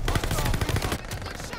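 Gunfire with incendiary rounds in Call of Duty: Vanguard comes as a loud, dense burst of rapid shots that fades into a short trailing rumble.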